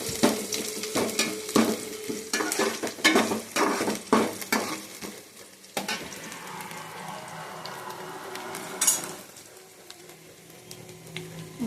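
Dried red chillies fry in hot oil, giving a busy crackling sizzle with repeated clatter of a spoon stirring in the pot, followed by a steadier, softer frying hiss, with no voice heard.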